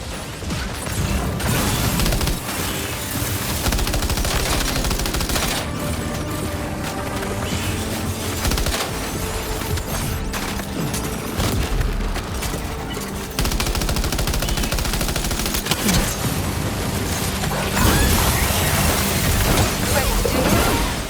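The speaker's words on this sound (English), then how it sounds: "Open fire." Dense, continuous gunfire and machine-gun bursts in the video game Death Stranding 2, loud and unbroken across the whole stretch, layered with mechanical clatter and crashes, and a voice calls out briefly amid the shooting.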